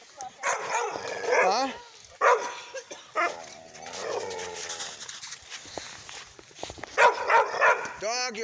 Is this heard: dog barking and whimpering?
yes